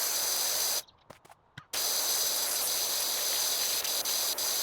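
Loud, continuous hissing blast from a pressure washer cleaning a porch in a video game, broken by one short pause near the start before the steady spray returns.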